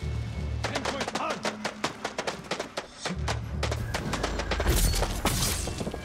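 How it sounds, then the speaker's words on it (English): Firecrackers going off in the samurai game Ghost of Tsushima: a quick string of sharp crackling pops and bursts, close and loud, ending in a denser, noisier flurry. "Okay, firecracker."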